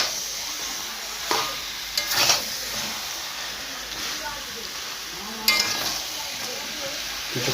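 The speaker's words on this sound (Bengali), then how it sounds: "দিয়ে এইভাবে নাড়তে থাকবেন" Chicken pieces stirred in a frying pan for a Bengali-style murgi dish, a steady soft sizzle broken by a few sharper scraping and clinking stirs, close by and moderately quiet.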